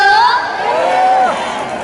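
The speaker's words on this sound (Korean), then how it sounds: "함성도 많이 질러주셔야 돼요" A crowd at an outdoor unification festival concert in Korea lets out a loud, bright cheer with rising whoops and shrieks, sustained steadily for a couple of seconds.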